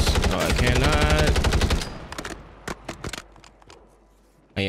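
Rapid bursts of OG Grau rifle fire on Rebirth Island in Warzone follow a short stretch of talking, a handful of crisp, separate volleys that drop into near quiet before one last loud shot.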